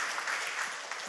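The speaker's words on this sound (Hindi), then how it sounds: "तो क्यों ना जोरदार तालियों के द्वारा उनको स्वागत करें" A congregation at a Hindi Sunday church service claps to welcome the preacher, a brief burst of dense, lively applause.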